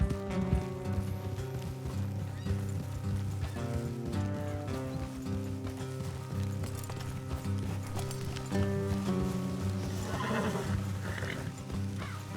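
Horse hooves clip-clop steadily in Red Dead Redemption 2 over a continuous bed of music, with occasional whinnies rising above the mix.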